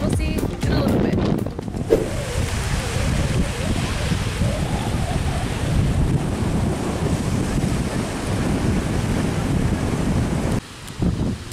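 Strong wind buffets the microphone at a Hawaii beach, a loud continuous roar with surf mixed in, easing briefly near the end.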